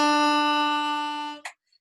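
Software playback of a short written melody in a reedy, toy-like kid's accordion tone, a single sustained buzzy note held for over a second before a brief click and silence.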